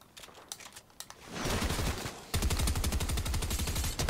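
Gunfire in the SCUM survival video game: a few scattered shots at first, then sustained rapid automatic bursts that stay loud and dense to the end.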